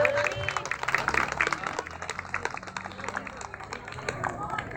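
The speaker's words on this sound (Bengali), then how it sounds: "হাততালি হবে, হাততালি হবে একটু জোরে।" Audience clapping at a club award event as a judge receives a memento, a lively burst of many hands clapping throughout, with a voice speaking over it.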